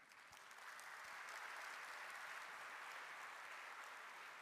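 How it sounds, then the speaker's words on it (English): Sustained applause and cheering from a gathering of the Indian community in Tanzania welcoming a visiting dignitary, a steady dense wash of clapping that swells slightly and holds at moderate distance throughout. "let's warm up this place a little bit with a round of cheer and applause"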